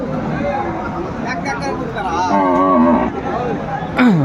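A cow lets out a low, drawn-out moo amid the busy chatter of a crowded cattle market, with a second short call at the end.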